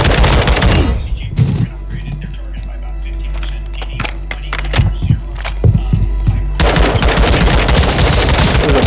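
Automatic gunfire in a first-person shooter video game: dense rapid bursts at the start and end, with scattered single shots and impacts in between over a low rumble. It is loud and close.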